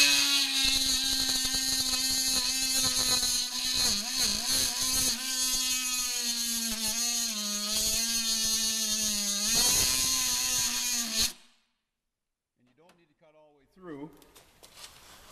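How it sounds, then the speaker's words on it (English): An oscillating saw cuts a vehicle running board during installation, a steady high buzzing whine with wavering pitch for about eleven seconds, then it stops and a voice speaks briefly. "then we're going to take an oscillating saw and come down here, and we're going to cut this off"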